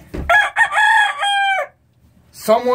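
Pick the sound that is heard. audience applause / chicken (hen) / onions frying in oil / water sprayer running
chicken (hen)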